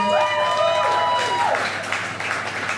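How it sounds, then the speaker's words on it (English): Applause from a community night audience for a performer, a moderate, continuous clapping wash with a voice speaking over the first half and cheering mixed in before it tapers slightly. "Another round of applause for Syed Haider."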